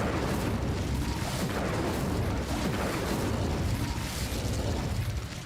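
Incendio fire spell cast in Hogwarts Legacy: a dense, continuous roaring burst of fiery noise with rumbling, explosive texture, loud and unbroken throughout.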